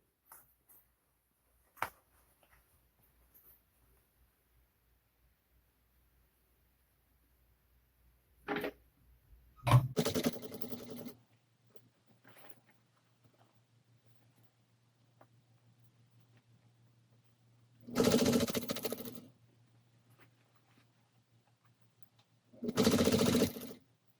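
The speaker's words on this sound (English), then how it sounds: "So I'm going to sew from here to here. With a 1/2 inch sewing seam." Sewing machine sewing a crossbody bag seam in a few short bursts of stitching, close, separated by long quiet gaps with a low hum and scattered handling clicks.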